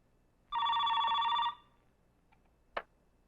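A telephone bell rings once in a steady burst of about a second indoors, then goes quiet, followed by a short click as the handset is picked up.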